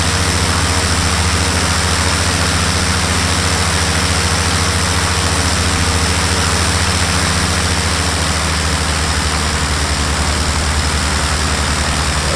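Aircraft engines in a flight simulator game, a loud, steady droning hum that holds constant without a break, with no talking over it.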